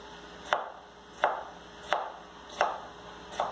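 A sharp knife chops beef mocotó (cow's foot) on a cutting board, five firm, evenly spaced thuds about 0.7 seconds apart, close and clear with nothing else heard.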